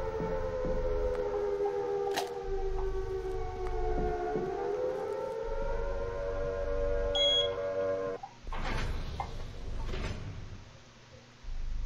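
A Silent Hill style siren wails in the video game Midnight Tales, a long droning tone that dips and rises in pitch, cut by a brief beep and then sliding, door-like shuffles near the end.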